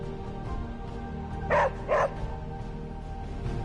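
Charlie, a dog in the video game Marvel Midnight Suns, lets out two short barks about half a second apart over a quiet low ambient game background, with no speech.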